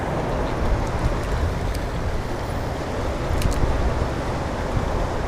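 Strong wind blows outdoors at a lakeside fishing spot during truck camping, a steady, loud broadband roar buffeting close by with no talk.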